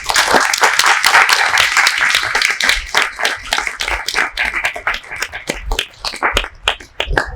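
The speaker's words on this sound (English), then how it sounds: "First, a big round of applause." A lecture audience at IIT Delhi claps after a talk, loud and close, with distinct individual hand claps forming an irregular, lively rhythm that gradually becomes sparser.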